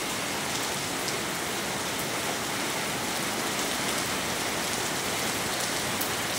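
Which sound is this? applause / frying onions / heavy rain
heavy rain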